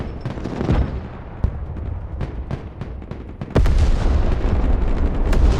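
Cruise missile strikes land in the Broken Arrow war game: a run of sharp, loud blasts and booms in quick irregular succession, giving way to a dense, sustained roar of detonations.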